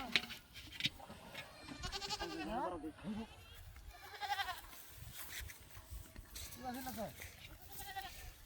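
Goats bleat in short wavering calls amid steady overlapping human chatter, apparently at a busy livestock market.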